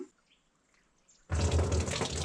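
Running water rushes in suddenly after a near-silent moment, then keeps flowing as a steady, loud, close splashing stream.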